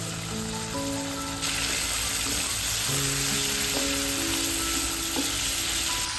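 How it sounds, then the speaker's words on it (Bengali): Prawns frying in a hot pan for daab chingri, a loud, continuous close sizzle with bubbling crackle and occasional stirring, no voices. "চিংড়ি মাছ ভাজা স্টার্ট করে দিচ্ছি"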